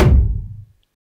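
A cinematic whoosh hit run through Kramer tape saturation lands as one deep, loud thud that fades quickly to silence, heard alone without talking.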